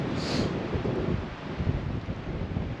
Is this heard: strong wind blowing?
yes